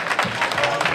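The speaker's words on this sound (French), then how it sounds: "On veut les applaudir, s'il vous plaît." Steady applause fills the hall at an evening celebration, a dense wash of clapping from the audience with faint voices beneath.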